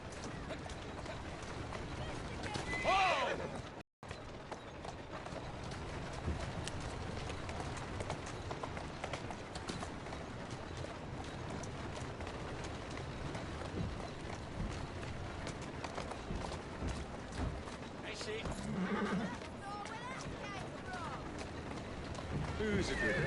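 A horse's hooves clip-clop in a steady trot in the Victorian London streets of Assassin's Creed Syndicate, a continuous rhythmic patter under game ambience and occasional spoken voices.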